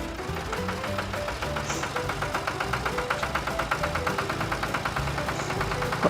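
A toy tractor's small motor runs with a steady, rapid mechanical chugging and rattling pulse, close and continuous with no talk.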